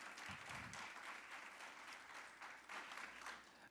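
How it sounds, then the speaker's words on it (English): An audience applauds its student speakers at a school event, a dense, steady wash of many hands clapping together, moderately loud and sustained throughout with no talk over it. "one more round of applause for all of our student speakers"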